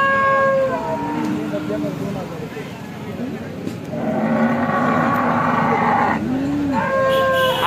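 Cows at a livestock market in Alephata low and moo loudly and close by, several calls spread through the clip over a busy background of crowd talk and passing traffic.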